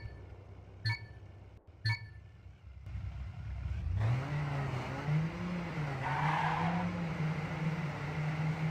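Cars drifting in a video game, with engines revving and rising in pitch as tires squeal in long skids, loud and continuous after a few brief clicks at the start.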